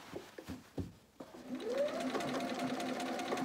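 Sewing machine stitching along the edge of an appliqué twig on a cardinal wreath quilt, a steady close mechanical whir after a few soft clicks and handling noises.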